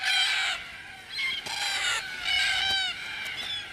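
Red-tailed black cockatoos give harsh, rolling, metallic calls at a tree-lined desert watercourse, several calls in a row at moderate distance against a quiet outdoor background.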